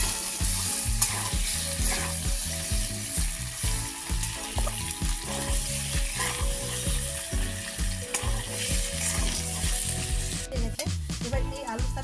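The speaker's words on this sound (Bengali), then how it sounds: "ভালোভাবে লাল লাল করে একটু ভেজে নিতে হবে।" Potatoes frying in a pan for a potato and bottle-gourd dish, a continuous close sizzle broken by repeated rhythmic scrapes and knocks of a spatula stirring, with a brief clatter near the end and no talking.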